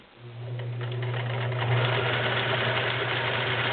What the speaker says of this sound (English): I'm sewing with shoes on, so I can't feel the pedal.